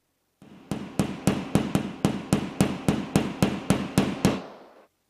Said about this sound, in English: tap the head so the plug sits snugly in the drill hole